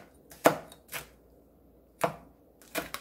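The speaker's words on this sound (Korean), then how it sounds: "청양고추 하나, 홍고추 하나 송송송송 썰어 줍니다" A knife slices one green cheongyang chili and one red chili on a cutting board, four sharp separate chops with pauses between, close and clear.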